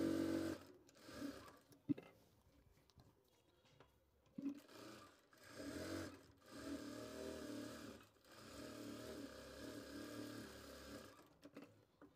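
A sewing machine stitches a salwar in bursts, its steady motor whir starting and stopping several times with brief pauses between runs, close and moderately loud, no talk.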